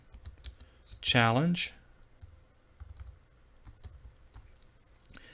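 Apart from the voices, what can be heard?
typing on a computer keyboard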